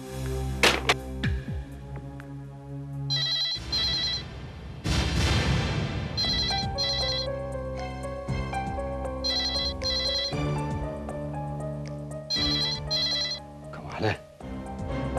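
A phone ringtone repeats in short tonal bursts, a few rings over a musical score with voices speaking now and then.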